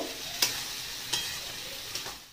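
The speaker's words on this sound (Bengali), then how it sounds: "ডালটাকে এর সঙ্গে কিছুক্ষণ কষিয়ে নেব।" Matar dal being sautéed in a pan, with a soft steady sizzle and three sharp scrapes of a spoon stirring at even intervals; no talk.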